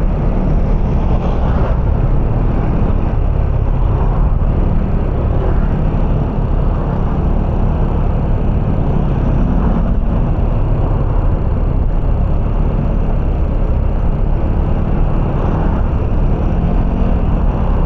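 A motorcycle engine hums in a steady, loud drone while riding at night along a dark road with few street lights, with constant road and wind rush and no break.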